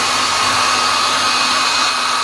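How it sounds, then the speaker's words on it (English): A small hair dryer blows continuously at close range, a loud steady whooshing roar used to heat and crackle Powertex on handmade gum leaves. "we're going to actually take the hairdryer and we're going to crackle that"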